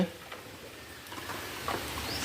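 Heavy rain comes down in a broad, steady patter, with faint scattered knocks mixed in and no one speaking.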